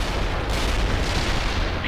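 Heavy armor tank cannons fire in the real-time strategy game World in Conflict, a dense, continuous barrage of booming shots and rumbling explosions layered together at steady loud intensity with no clear gaps.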